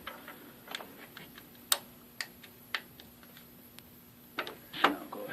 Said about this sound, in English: I'll go ahead and torque this.